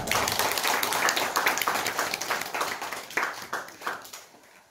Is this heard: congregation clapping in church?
yes